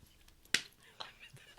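During a casual interview with a city mayor, a single sharp knee slap lands once, crisp and close, with faint voices murmuring around it.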